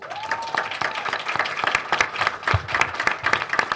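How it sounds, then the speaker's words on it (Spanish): An audience at a university literature colloquium applauds after a poetry reading, a steady wash of many hands clapping at close range, with no speech over it. "Un aplauso más, por favor."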